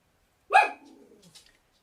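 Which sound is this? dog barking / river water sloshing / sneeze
dog barking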